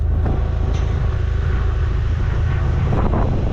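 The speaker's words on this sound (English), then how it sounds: "Too windy to spray today." Steady, heavy wind buffeting the microphone on a farm during planting season, a constant low rumbling roar with no breaks, loud and close throughout.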